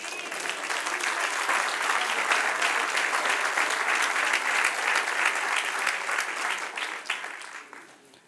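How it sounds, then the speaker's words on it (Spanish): A church audience at a Bible class gives sustained, dense applause that swells and holds for several seconds before fading out at the end. "Denle un aplauso al Señor."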